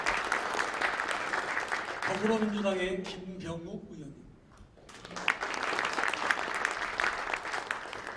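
Audience applause for lawmakers introduced at the Gyeonggi Christian Council 2020 New Year prayer breakfast. Clapping rises and falls in short rounds, a voice speaks on a microphone in the middle while the clapping fades, and then the applause swells again.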